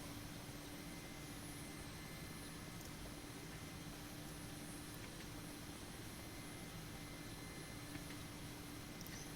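Steady, loud turbine roar and rotor drone of an Mi-8 helicopter in flight, heard from inside the cockpit as one unbroken wash of engine noise with faint tonal whines and no talk.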